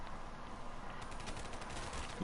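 Gunfire in Call of Duty Zombies on the Shi No Numa map, a faint burst of rapid automatic shots that starts partway in and runs on as quick repeated cracks.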